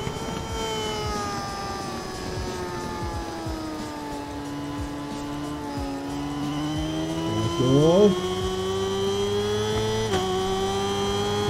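A motorcycle engine in an endurance racing video game at the Nürburgring GP circuit drones loudly and steadily, its pitch sliding down and then rising again, with a brief sharp shift near the end. A voice speaks briefly.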